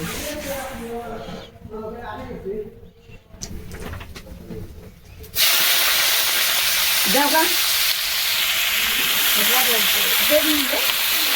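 Onions dropped into hot oil in a village kitchen burst into a loud, steady sizzle that starts suddenly and holds to the end, with quieter talk and clatter before it and a few voices breaking through.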